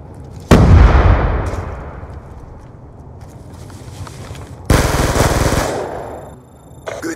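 A grenade explosion in a shooter game, a loud close boom with a long decaying rumble, followed seconds later by a sustained burst of rapid gunfire.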